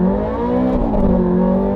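A supercar engine revs with a smooth, sustained high-pitched wail, loud and close, holding steady and rising slightly in pitch over a couple of seconds with no talking.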